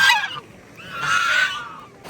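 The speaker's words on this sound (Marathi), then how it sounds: "आणि हे बघा बदका पण असत" Waterfowl by a river honking in two drawn-out, nasal calls, close and clear with a short gap between them and no talking.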